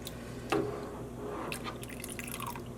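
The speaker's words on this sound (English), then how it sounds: "even just pouring it on the spoon helps move it around a bit" Liquid yarn dye poured over a spoon in an immersion dyepot, a soft close splash and trickle with faint dripping afterward, no voices.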